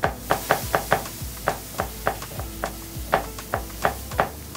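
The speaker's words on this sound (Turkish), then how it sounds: "Ben tabii şimdi malzemesini doğrayayım." A knife chops ingredients on a board while preparing a halibut dish, giving a steady run of about fifteen crisp, close knocks at an even pace, with no talk.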